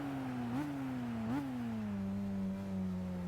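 A Mazda Furai race car engine in Gran Turismo 5 drones at a steady pitch with two brief upshift blips, then settles into a faint, even hum, with no talk over it.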